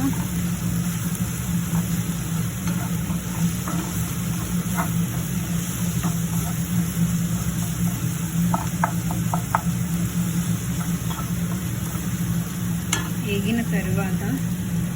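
Tomatoes frying in a pan for a beans masala curry make a constant low sizzle over a steady hum, dotted with faint clicks and light stirring taps.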